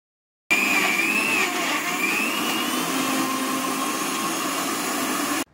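Mixer grinder blending a malpua batter of wheat flour, sugar, cardamom, a pinch of salt and milk: a loud, steady motor whir that starts suddenly, runs evenly for about five seconds, then stops.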